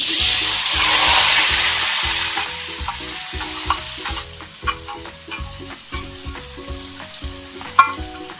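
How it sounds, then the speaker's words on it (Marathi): Potato pieces fry in hot oil for upwas khichadi, a loud steady sizzle that swells early then settles, broken by repeated rhythmic scraping strokes of a spoon against the pan. "तर सगळ्यात आधी आपण बटाटा घालायचा आहे तेलात."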